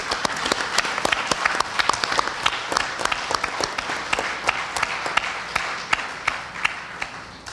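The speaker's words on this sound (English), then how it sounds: "Let us appreciate Mansi's hard work and give her a round of applause." Audience applause for a Bharatanatyam dancer at her arangetram, a steady run of many hands clapping in a hall, sharp individual claps standing out through the whole stretch without voices.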